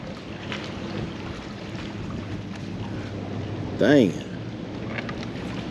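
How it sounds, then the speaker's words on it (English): Wind gusts rush and buffet steadily across the microphone beside the water while fishing, a constant loud roar throughout. Someone speaks briefly in the middle. "That wind is whipping right here."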